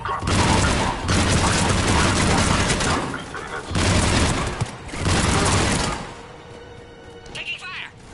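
Heavy bursts of gunfire and booming explosions in Mass Effect Legendary come in loud, dense waves with brief lulls, and voices talk through the combat before it fades.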